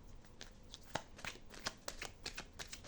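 Tarot cards are shuffled and drawn for a reading, with a close run of crisp riffling flicks and slaps in uneven bursts, ending in a sharper louder snap.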